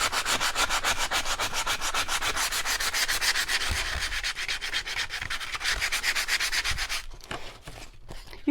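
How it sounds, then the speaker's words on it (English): A palm sander runs steadily on wood for a farmhouse barn door porch shelf, giving a continuous close buzzing rasp with a fast pulsing rhythm that cuts out near the end. "I think I'm going to get my palm sander, so just so you can see what that looks like"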